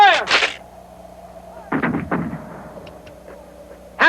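Musket volleys from reenactors firing flintlock firelocks, several sharp reports in quick succession and then more after a pause. The loud cracks ring out over an open space with faint background murmur.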